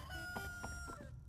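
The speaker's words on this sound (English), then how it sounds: "if you haven't heard the roosters crow" Roosters crow in a Huggy Wuggy game setting, with a long cock-a-doodle-doo and a second crow overlapping it. The calls are faint and sit over a dense, noisy background.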